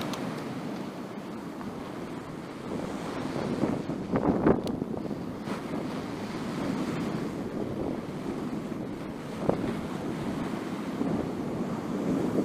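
Rough Pacific Ocean surf rolls in along the Japanese coast on a windy day, a continuous wash of breaking waves mixed with gusting wind rumble on the microphone, fairly soft overall with occasional louder swells.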